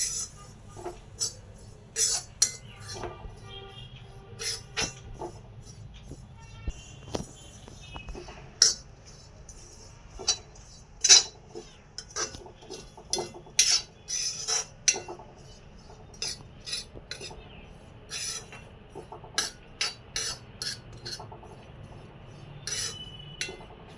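Grated coconut being stirred and roasted dry in a pan for karanji filling, with frequent light metallic clinks and scrapes of a spoon against the pan over a faint quiet background.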